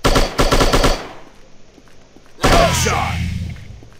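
Rapid automatic gunfire from the shooting video game Striker, a loud burst of closely spaced shots up front, a quiet gap, then a heavy blast that booms and slowly decays.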